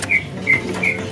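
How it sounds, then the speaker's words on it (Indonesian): Magpie robins (kacer) from Kalimantan at a bird kiosk: three short, bright chirps spaced evenly about every third of a second over a soft background murmur, with no talking. "Pokoknya untuk pilihan burung kacer yang masih bahan dari Kalimantannya, di sini masih banyak sekali pilihannya"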